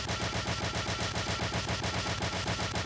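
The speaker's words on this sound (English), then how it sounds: "We can just go firing at this thing." Mech weapons firing nonstop in the Roblox game Mega Mech, a rapid, evenly spaced burst of machine-gun-like shots, loud and continuous with no talk.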